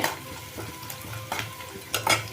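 Onions frying in a pan for a brinjal stir-fry: soft sizzling under a few scraping stirs of a spoon against the pan, close and moderately quiet.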